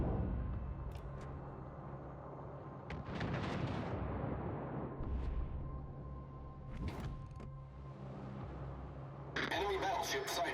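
Battleship main guns fire shells in the naval game World of Warships, heard as several deep booming blasts spaced seconds apart, fairly quiet overall, with a voice talking in the background.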